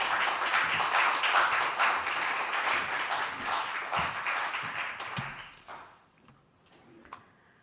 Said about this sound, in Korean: 우리 나오실 때 우리 박수로 환영하겠습니다